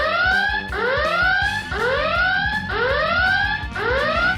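A flying-helicopter alarm clock rings with a loud, close electronic alarm in repeated rising sweeps, about one per second, each a bright warbling chirp over a buzzy low hum.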